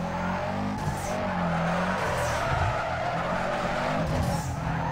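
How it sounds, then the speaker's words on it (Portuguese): A Subaru drifting in Need for Speed Underground 2, sustained tire squeal over a revving engine, with pitch swings as the car slides through corners, loud and continuous. "Vamos ver como é que é o Subaru no drift."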